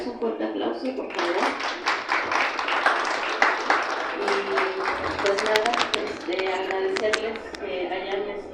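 Audience applause at a Spanish-language family talk about autism diagnosis: a burst of many hands clapping that rises and continues for several seconds, with people talking over it.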